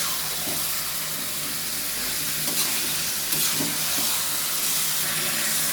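Chicken meat sizzles and fries in a pan while being stirred, a continuous crackling hiss with occasional scraping stir strokes, close and steady with no talking.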